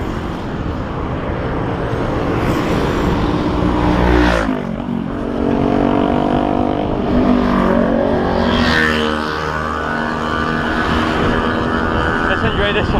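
A car rolls downhill with a steady loud engine and road roar, the engine note shifting partway through, no one speaking.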